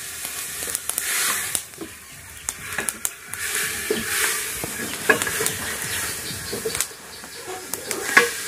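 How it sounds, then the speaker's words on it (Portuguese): Partly frozen meat fries in a pan on a wood-fired stove, giving a steady loud sizzle and hiss broken by frequent scrapes and clinks as it is stirred, close up and with no one talking. "aqui a carne já deu uma fritadinha nela"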